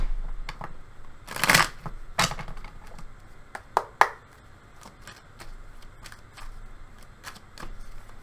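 Close tarot cards shuffled in a couple of loud riffles followed by scattered light taps and flicks, with no talking.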